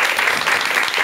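A lecture audience claps steadily, dense applause filling the whole moment without a break.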